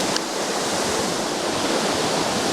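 Rushing creek water roars steadily and close, a dense unbroken wash that fills the scene with no voices over it.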